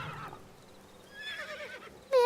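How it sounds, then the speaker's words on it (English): A horse mount in the video game Secret World Legends gives a shrill, wavering whinny, rising near the end into a louder, sharper neigh close by. "this horse makes it sound like I'm torturing it every time I jump"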